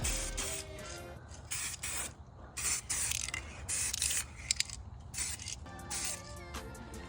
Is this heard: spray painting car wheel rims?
yes